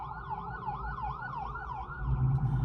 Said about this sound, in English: I got this ambulance coming through.